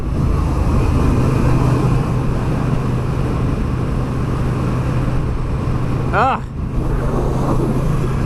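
A 2022 Triumph Bonneville T100 rides along the road with a steady, loud engine drone under heavy wind rush, and a brief tonal sweep comes near the end.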